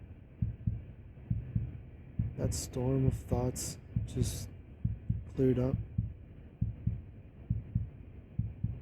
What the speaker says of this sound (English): That fast heartbeat just became a calm symphony